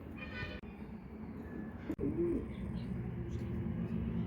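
A sick pet pigeon cooing softly, a short low warbling coo heard close amid faint background noise, with a sharp click or knock just before it.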